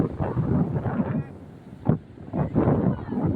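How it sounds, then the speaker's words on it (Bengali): Big sea waves roll in at Bakkhali beach as a steady, wind-buffeted roar with surging swells, one sharp crash near the middle, and faint voices in the background. "ভালো ঢেউ আছে, বড় বড় ঢেউ।"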